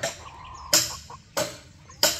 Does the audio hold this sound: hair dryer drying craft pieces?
no